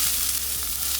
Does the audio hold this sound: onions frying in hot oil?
yes